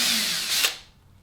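A power drill drives screws into a wooden 45-degree cutting jig, one loud close whirring burst under a second long that then stops.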